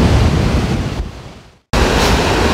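Strong wind buffets the microphone on a Dartmoor hillside, a loud, steady roar that dips briefly to near silence before rushing back just as hard.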